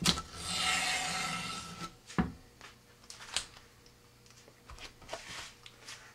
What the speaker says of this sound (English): Pull the tape as quick as reasonably possible.